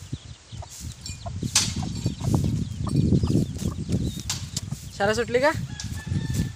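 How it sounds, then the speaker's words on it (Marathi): Backyard chickens in a Konkan village at evening, clucking and pecking about close by while a rooster lets out a clear crow near the end; people talk briefly over the scene. "तर ही बघा इकडे कोंबडी."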